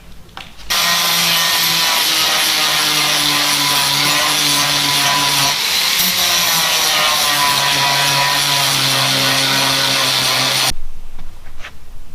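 A power tool trims an MX5 plastic crash pad with a loud, continuous grinding rasp lasting about ten seconds, its pitch wavering slightly as the cut progresses, then cutting off sharply.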